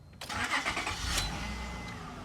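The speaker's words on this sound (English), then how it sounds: "I'm gonna go ahead and start the car." A 2001-2006 Acura MDX engine cranks briefly and catches, settling into a steady idle rumble close by, with no talk over it.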